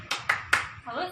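Three sharp hand claps in an even, quick rhythm, a group clap chant at a parenting class for mothers, followed by a voice starting to talk.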